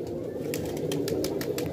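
Local and high-flyer pigeons kept for sale coo nearby, with a few quick bursts that may be wing flaps breaking through a steady low murmur; no voices are heard.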